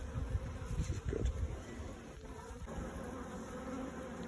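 Honey bees buzzing around a nest in a plant pot, a faint close drone of many wings humming steadily with a few louder passes early on.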